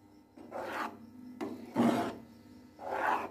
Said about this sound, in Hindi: घी डाल के हल्के हाथों से चलाना है चम्मच